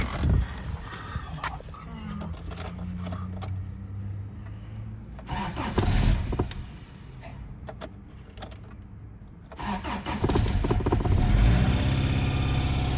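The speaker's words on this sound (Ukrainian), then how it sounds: "зараз заведемо машинку." A car engine cranks and starts during a review of a Vitals car air compressor, with loud rumbling bursts and engine noise running through the clip under voices.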